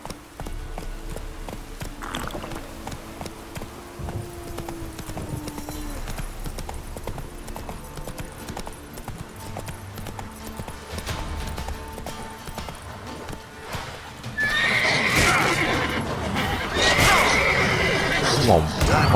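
In The Witcher 3, a horse's hooves clop steadily over the ground while it snorts and gives a whinny, the hoofbeats and neighing growing louder toward the end, with a voice speaking now and then.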